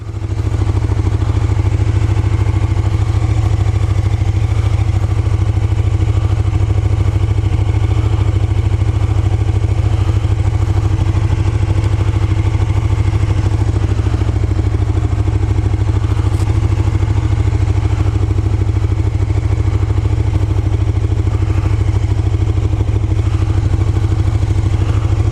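A steady, loud motorcycle engine drone holds through the whole ride with deep low rumble and continuous wind roar, with no talking.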